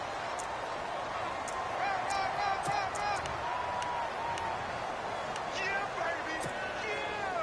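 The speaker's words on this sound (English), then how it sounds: "The crowd getting into it as we come up on a big 3rd down." Steady roar of a stadium crowd in a football video game, a continuous wash of cheering and whoops building before a third down, heard under a commentator's voice.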